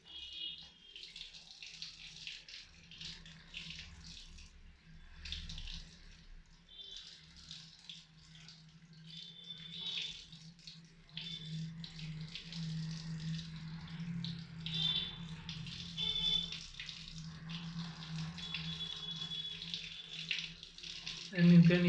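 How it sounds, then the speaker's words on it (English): Split AC filters rinsed under a running tap, a soft hiss of flowing water that swells and thickens as the filters pass through the stream, with faint rattles, quiet and close. "you can pull out the two filters from there and just clean under the running water"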